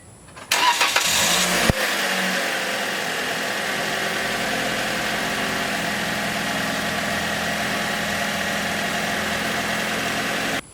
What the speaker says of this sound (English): now we're going to fire it up just to see if it makes any squeaking noises